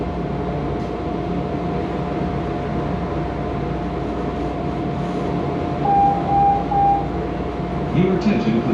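A Chicago CTA Blue Line subway train bound for O'Hare rumbles steadily, with a constant low drone, a sustained tonal hum and brief squealing near the end, loud and close from inside the car.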